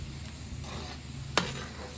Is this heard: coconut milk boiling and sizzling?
yes